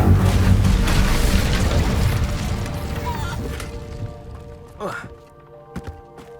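An Incendio fire spell is cast in the video game Hogwarts Legacy, a loud, sustained roaring burst that slowly dies away, followed by a few softer thuds and a voice speaking.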